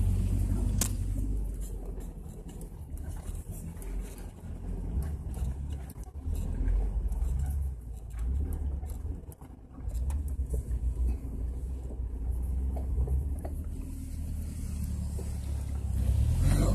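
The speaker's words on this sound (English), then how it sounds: "I'll try to get the Jeeps coming through too." Jeeps driving along a flooded offroad trail beside a beaver dam bypass, a steady low engine rumble with occasional revving that stays loud and continuous throughout, with no talking.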